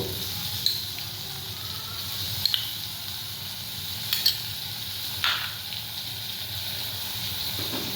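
Spice masala for doi katla, a Bengali yogurt fish curry, sizzling and being stirred in a pan, a steady hiss with occasional scraping clinks of the spatula.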